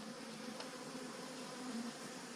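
Honey bees buzzing on a hive frame during an upgrade from a split to a ten-frame nuc, with a steady, close, continuous drone and no talking.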